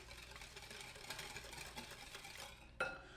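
Whipped coffee beaten by hand with a whisk, a steady fast scraping and swishing that runs on continuously, close up, ending with a sharper clink.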